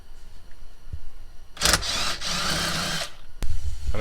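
Screws come out of the shifter boot of a 1979 coupe with a short power-driver whir lasting about a second and a half, framed by faint clicks and a sharp tap near the end.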